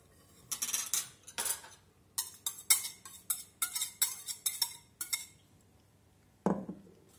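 Sugar being stirred into a rhubarb tart filling, heard as a run of quick clinking, scraping strokes of a utensil against a bowl, repeated in bursts with a short pause before one last knock.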